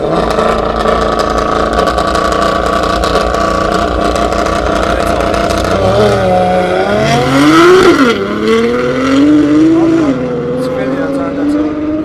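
At a drag racing event, a race car engine drones steadily, then revs up and down in rising sweeps, loud and close, while people talk over it.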